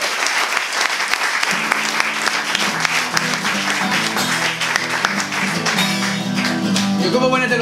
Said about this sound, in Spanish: que un aplauso para ellos, para vosotros, para estar aquí